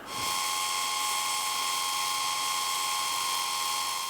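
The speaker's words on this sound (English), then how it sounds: "Welding." Continuous steady buzzing and hiss of welding on a car's pedal area during a Toyota 2JZ engine swap manual transmission conversion, loud and close, running unbroken with no voices.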